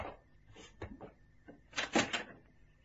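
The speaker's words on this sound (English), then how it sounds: "The door to the yard opened." A door to a prison yard swings open in an old-time radio drama, several short scraping, creaking bursts that peak in a louder cluster near the end, with no talk over it.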